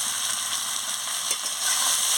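Fish curry with cauliflower sizzles in the pan while being sautéed with a little sugar, a steady close hiss of frying with faint stirring.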